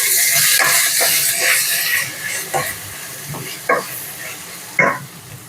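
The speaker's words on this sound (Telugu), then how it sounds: "మీడియం ఫ్లేమ్ పెట్టుకొని దొండకాయ ముక్కల్ని మధ్య మధ్యలో కలుపుతూ ఉండాలి." Ivy gourd pieces sizzle in a pan over a medium flame, with a steady frying hiss broken by several scraping stirs of a spoon, close and fairly loud.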